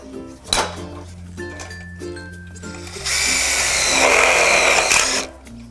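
Power drill driving screws into a roof purlin with a 200mm connector on a double roller garage shed frame, one sustained close whir of about two seconds, following quieter clinks and a low hum.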